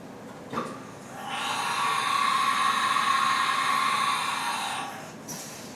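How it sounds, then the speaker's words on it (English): A Haas Mini Mill CNC machine performs an M6 tool change, giving a faint whirring, hissing mechanical whine that swells for about four seconds between soft clunks. "we're going to go ahead and tool change M6 to tool 3"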